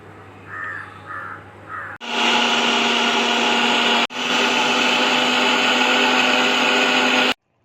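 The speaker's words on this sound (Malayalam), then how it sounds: "നന്നായിട്ട് നമുക്ക് പേസ്റ്റ് രൂപത്തിലൊന്ന് അരച്ചെടുക്കാം" An electric grinder whirs loudly, grinding coconut with mustard seeds, cumin and water into a paste. It runs in two steady bursts with a brief stop between, after a quieter opening with a few bird caws.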